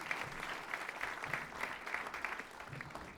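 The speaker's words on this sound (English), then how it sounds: "Maybe we give her a round of applause." A concert audience gives a round of applause: a continuous wash of many hands clapping, heard from a distance and fairly faint, steady throughout with no talk above it.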